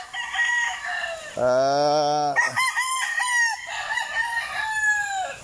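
Rooster crowing with a long drawn-out call, followed by overlapping crows and clucking from other chickens nearby, loud and close with no talk over it.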